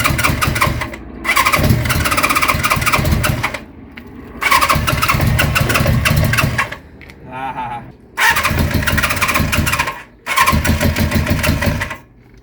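A Kawasaki GPz 550 two-cylinder motorcycle engine revs loudly and up close in several bursts of a few seconds each, dropping to a low idle between them.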